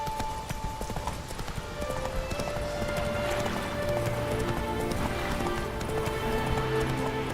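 Roach the horse galloping in the video game The Witcher 3: Wild Hunt, a steady rhythmic clip-clop of hooves that runs continuously, close and clear over a soft background of ambient tones.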